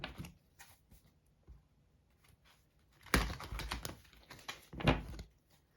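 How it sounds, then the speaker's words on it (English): Cards are riffled and shuffled in quick rustling bursts, with two louder flurries of rapid flicking near the end, otherwise quiet. "that was our final shuffle."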